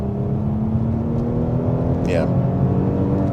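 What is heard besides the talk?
2021 Audi SQ5 accelerating hard from 40 mph in comfort mode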